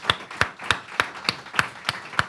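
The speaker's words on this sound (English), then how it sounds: "So let's give them a round of applause too." Slow, evenly spaced claps from an audience, about eight distinct sharp hand claps in a steady rhythm, fairly close and isolated with no talk over them.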